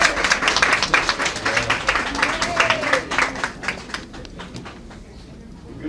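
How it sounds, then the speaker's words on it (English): Crowd at a community health care enrollment drive clapping for an arriving county judge, a lively burst of applause that thins out and fades to quiet near the end. "A round of applause, please."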